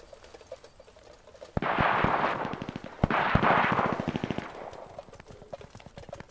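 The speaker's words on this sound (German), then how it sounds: "Ich finde die Waffensounds eigentlich mega nice" Rapid automatic gunfire from weapons in the Cuisine Royale video game, two sustained bursts of fast, evenly spaced shots with a few heavier single cracks, loud and close over a quieter background.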